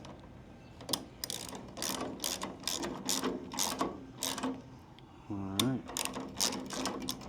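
A firewood conveyor chain mechanism clatters in a steady series of loud rhythmic metallic clanks, close by, with a person speaking briefly partway through.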